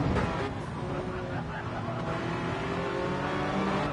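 A Porsche race car engine roaring steadily as it exits a corner at Daytona in a racing video game, a continuous loud drone with other cars' engine noise blended underneath.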